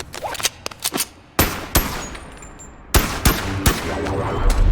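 Guns fire in the Boneworks VR game in bursts of sharp, loud reports: a quick rattle of shots, then heavier single blasts with ringing tails, close and unaccompanied by talk.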